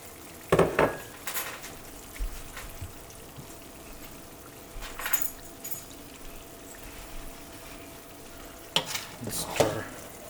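Green chilies sizzle in a pan for beef tehari, with a utensil stirring and scraping in a few sharp, clattering bursts over a soft, steady frying hiss.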